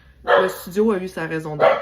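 A dog barks and yips indoors in short bursts mixed with a woman's speech, the barks partly masked by her voice and close by.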